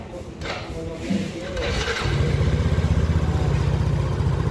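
Motorcycle engine idling steadily right after the ignition key is switched off and back on, settling into a low, even rumble that grows slightly louder and holds stable.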